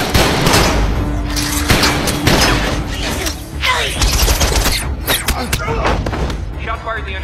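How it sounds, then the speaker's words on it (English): Gunfire erupts aboard Air Force One in a Transformers film action scene, dense bursts and sharp cracks layered with loud thuds, mechanical clatter and a sustained tone, with voices talking through the chaos. "Repeat, shots fired."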